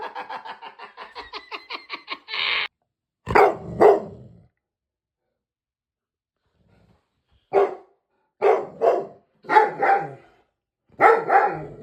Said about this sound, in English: They're barking at Stinky.